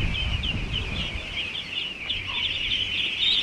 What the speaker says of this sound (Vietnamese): Đây là đàn vịt nhỏ này